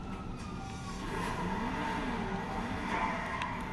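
A car drives in GTA V, with engine noise running steadily throughout and tires skidding and squealing intermittently, heard alone without talk.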